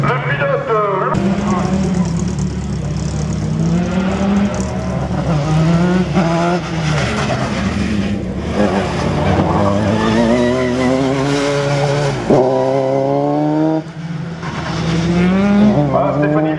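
Race cars at the Neufbourg slalom roar past one after another, loud and close, engines rising and falling with tire noise, while a commentator talks over them throughout.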